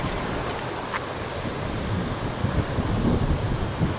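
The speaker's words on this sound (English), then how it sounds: "Really super windy today." Steady wind roars across the microphone with a broad rushing noise at a lakeside state park, joined by surf-like swells near the end; no voices.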